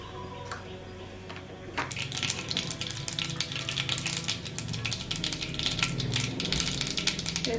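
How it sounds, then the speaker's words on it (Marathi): Dense, rapid crackling and popping of mustard seeds in hot oil, starting after a quiet moment and continuing steadily, close up. "मोहरीला चांगला तडतडून द्यायचंय आपल्याला"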